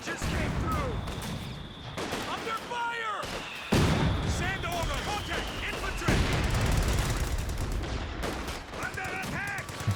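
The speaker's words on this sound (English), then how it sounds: "But the double mortars getting some work done here." Mortar and artillery fire in Company of Heroes 2, a 2v2 match: repeated booming impacts and sharp reports close together, with game effects and a voice talking over them throughout.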